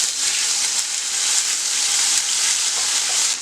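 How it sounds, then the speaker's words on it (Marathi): Cumin seeds and ginger-garlic paste sautéing in a spoonful of hot oil, a steady close hiss and crackle of frying that holds level throughout without any voices. "चांगली परतवून घेऊया"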